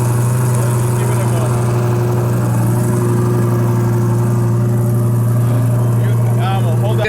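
A Lamborghini V10 engine runs nearby at a steady idle, a loud continuous low drone with a faint whir on top, lasting throughout with no clear revving.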